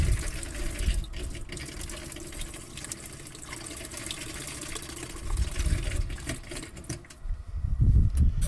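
Water runs and splashes steadily from the tap of a 1996 VW Autosleeper Trident camper, growing louder and gurgling toward the end.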